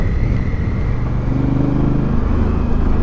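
A motorcycle fitted with Metzeler Karoo 3 tires rides along a twisty, bumpy road, its engine drone steady and close throughout with a continuous rumble of wind and road noise, no voices.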